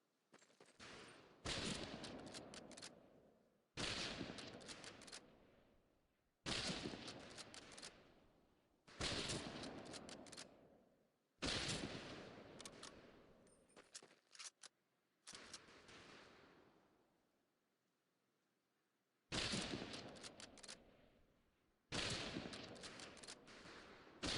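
Rifle fire at range targets in Medal of Honor: Pacific Assault, sharp close bursts of shots arriving in separate clusters with short silent gaps between them, loud against an otherwise quiet background.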